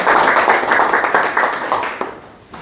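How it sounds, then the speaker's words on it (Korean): A burst of applause from a seminar audience, dense clapping that starts loud and tapers off over a couple of seconds. "박수 한번 부탁드리겠습니다."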